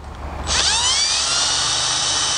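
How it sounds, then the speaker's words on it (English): A power drill spins up and runs steadily, winding thread onto a sail needle; a high, whining motor tone starts after a brief quiet moment and holds close and loud with no talking. "I don't want the drill to go a little crazy here and take it all away from me, and just get it to turn."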